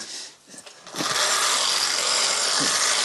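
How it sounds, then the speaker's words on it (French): An antique vacuum cleaner is demonstrated with a steady, dense mechanical whirring rush that starts after a second of rattling and clicking. It then holds loud and close without pause, and no one speaks. "Ces aspirateurs ici, comme je vais vous le montrer"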